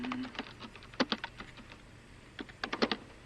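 Someone types on a computer keyboard, quick irregular clacking keystrokes in scattered bursts, close and fairly quiet, with no voices.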